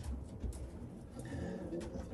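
A racing pigeon cock coos low and steadily at close range, a soft continuous murmur with a faint higher whistle-like tone partway through and no speech.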